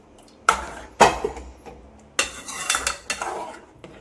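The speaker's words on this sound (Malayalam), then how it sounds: "തിളച്ച് മറിയണ്ട, ഇളക്കിക്കണം." Metal spoon clanks and scrapes inside a pot of Kerala fish curry as it is stirred, several sharp near knocks in irregular bursts with steady stirring scrapes between them, no voices.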